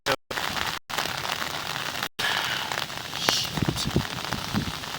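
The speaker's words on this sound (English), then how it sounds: "you're going to hear that beating on the water hitting the top of the umbrella" Rain beats steadily on top of an umbrella held outdoors, a dense close patter of drops with a few sharper taps, faint overall and broken by brief gaps.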